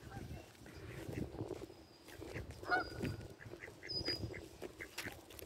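Ducks call at a summer pond in Canada, with a few honking quacks rising over outdoor noise and low voices, mid-distance and intermittent.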